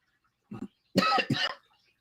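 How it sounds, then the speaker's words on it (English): A short throat-clearing sound followed by two harsh, close coughs in quick succession, surrounded by silence. "Oh, I got a cough."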